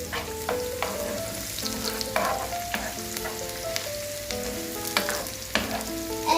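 Garlic and chillies frying in a pan for fried rice, stirred with a utensil that scrapes and clatters in regular strokes over a constant sizzle, close and clear, with no voices.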